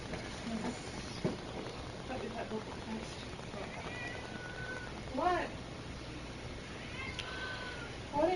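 A domestic cat meows twice, once briefly midway and again at the end. The meows are moderately close and sit over steady background noise, with voices and busy sounds nearby.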